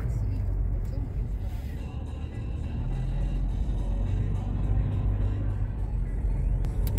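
A car driving along a road through a park area, a low steady engine and tire rumble heard from inside, with a person speaking over it.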